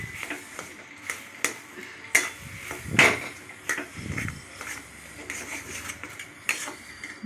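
A spatula working soybean paste around a hot pan, with an irregular series of close metallic taps and scrapes over a low background sizzle and no talking.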